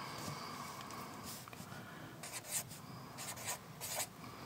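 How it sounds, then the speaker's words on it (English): A pencil scratches across paper while a number is noted down in a book folding project, soft continuous rasping strokes with a few brighter scratches, faint and close with no talking. "So I'm going to write down"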